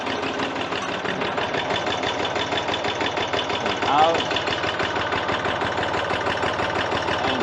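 Massey Ferguson 231 tractor engine idling steadily with a rough, even rhythm after starting, close and continuous throughout, with a brief person speaking over it.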